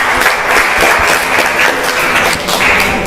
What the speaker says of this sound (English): Please give a warm round of applause to Jessie Ivana Gracia.